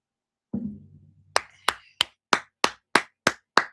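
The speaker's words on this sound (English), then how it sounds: "I always clap for my Buckeye guys" One person claps while watching an NFL Draft first-round pick, starting with a dull thump, then seven or eight sharp, evenly spaced claps, close and distinct with silence between them.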